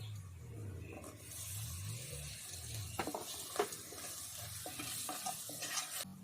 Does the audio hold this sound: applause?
no